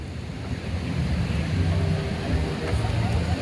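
Ocean surf rolling in steadily with wind buffeting the microphone, a continuous broadband wash of waves at a seaside lookout, fairly loud and unbroken throughout.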